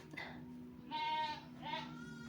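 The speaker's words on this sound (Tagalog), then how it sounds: "Maingay ang mga kambing." Goats bleat nearby, two drawn-out nasal calls a moment apart over a low steady background hum.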